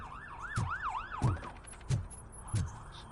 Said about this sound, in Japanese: 警察のサイレンが聞こえるな。